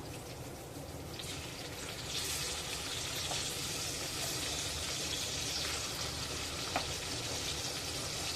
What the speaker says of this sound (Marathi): आता या तुकडे आपल्याला पाच मिनटं फ्राय करून घ्यायचे आहेत